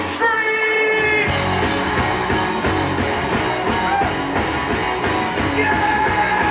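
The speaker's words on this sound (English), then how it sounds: "Everybody scream!" A concert crowd at a rock show screams and cheers loudly as one continuous roar, with the band's drums and guitars pounding underneath after an opening sustained chord.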